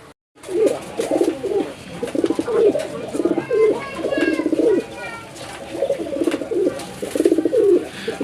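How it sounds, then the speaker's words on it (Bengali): Pigeons at a pigeon market, sky-blue paired gulla birds among them, coo in repeated low throaty bursts close by, with faint background chatter and market noise. "সুপ্রিয় দর্শক, আমরা এখানে যে কবুতরটা দেখতে পাচ্ছি এটা হচ্ছে সুরমা কালার বা আকাশি কালারের জোড়া গুল্লা কবুতর।"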